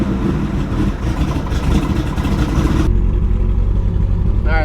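A Nissan S14 fitted with an RB26/30 engine running at night, a loud close low engine rumble that steadies partway through, no talking.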